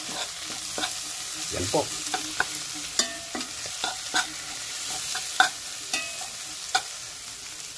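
Banana heart sisig stirred in a hot pan, a soft steady sizzle under repeated scraping clacks of a spatula against the pan, with a brief spoken word over it.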